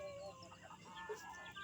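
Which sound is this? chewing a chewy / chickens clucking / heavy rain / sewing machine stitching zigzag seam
chickens clucking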